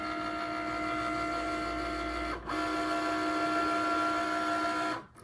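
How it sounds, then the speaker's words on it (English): A Cricut cutting machine scans for a registration mark with a steady, close mechanical whir and hum that keeps going for several seconds, broken by two brief dips. "first thing that's going to happen is the Cricut is looking for this registration mark"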